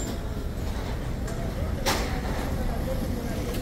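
Steady road traffic of cars and buses crawling through a congested street on the way to La Salada market in low light, a continuous rumble with one louder passing whoosh midway.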